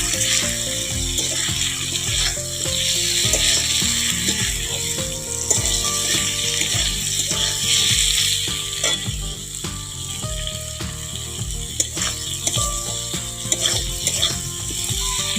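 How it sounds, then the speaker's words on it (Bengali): Chilli, turmeric, cumin and coriander powders sauté in hot oil for a prawn ghonto, giving a steady sizzle with occasional stirring scrapes, partly masked by continuous background music. "ভালো করে একটু কষিয়ে নেব"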